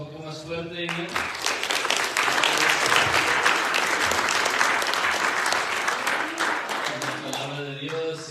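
A church congregation breaks into loud, sustained applause that swells and holds for about seven seconds, with talk just before and after it.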